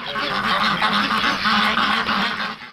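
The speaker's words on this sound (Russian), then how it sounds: "Эти утки нисколько не сожалеют о том, что живут в колонии" Flock of farm ducks kept at a penal colony quacking continuously and loudly, a dense overlapping chorus of many birds close by, with no talk.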